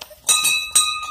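A temple bell struck twice in a Hindu shrine, each ring a bright metallic clang with a long, sustained shimmering decay, close and fairly loud.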